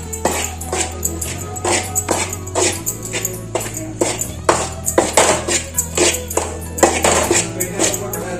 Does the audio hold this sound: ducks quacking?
no